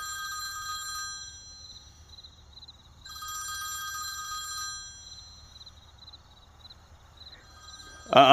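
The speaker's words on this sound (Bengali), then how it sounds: "আপনি খুঁজুন আমি ফোনটা ধরি" A telephone bell rings loudly in two separate bursts, the second longer, separated by a quiet gap with faint room hum, before a sharp sudden noise at the very end.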